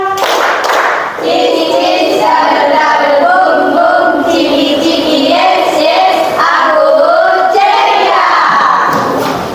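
A classroom of children doing a rhythmic clapping chant led by a teacher, with bursts of patterned hand claps and shouted group chanting, loud and close.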